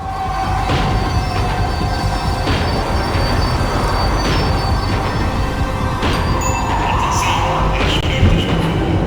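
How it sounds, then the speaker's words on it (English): A tram in the video game Max Payne 3 slows down, its wheels squealing and rails clanking rhythmically under a continuous rumble, close and fairly loud, with no talking. "The tram was slowing down, and I'd only just gotten on board."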